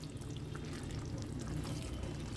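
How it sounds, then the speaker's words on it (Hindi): Water pours steadily into sabzi cooking in a pan, a close, continuous splashing pour that lasts for a couple of seconds. "यहाँ पर हम थोड़ा सा पानी ऐड कर देंगे"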